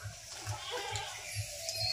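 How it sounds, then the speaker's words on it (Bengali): A goat bleats in short, regular calls, about five of them evenly spaced, close and fairly clear over a low background hum. "ছাগলের যা আওয়াজ, আমাদের কথা শুনবেই না।"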